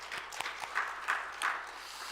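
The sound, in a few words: church congregation applause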